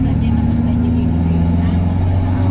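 Hired van driving along the road toward Baguio City, its engine hum and road rumble steady and close from inside the cabin.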